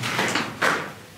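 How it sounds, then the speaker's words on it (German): A heavy steel door inside a World War II U-boat bunker in Bremen swings with a loud, resonant scraping groan, a single sustained movement that swells midway and slowly fades in the large concrete space. "So eine schwere Tür"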